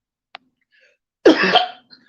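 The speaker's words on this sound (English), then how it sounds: "I got a dry cough" One brief, harsh dry cough comes close and alone after a short tiny click, then fades into quiet.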